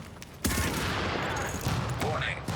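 Gunfire in a multiplayer shooter video game cracks out in a burst of rapid shots that starts abruptly and carries on with scattered bangs, fairly quiet under a general game din.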